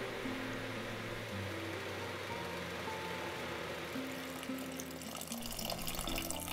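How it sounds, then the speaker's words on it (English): Tap water runs steadily into a soup pot of diced old potatoes and vegetables, a continuous close rush of filling liquid with a faint background hum throughout. "Finally, I added enough water to my soup to, in fact, make it soup."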